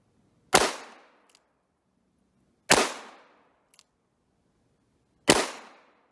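Three sharp, loud gunshots from an 1895 Nagant revolver chambered in 7.62x38mmR, evenly spaced about two seconds apart at an outdoor range, each with a short decaying tail and a faint click after it.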